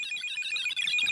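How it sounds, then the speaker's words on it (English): A handheld spirit detector resembling a small transistor radio with a long antenna sounds a continuous, loud electronic alarm tone, steady and piercing for the whole second with no voices. "It's a detector. It's an alarm that if something comes close to it, like a spirit."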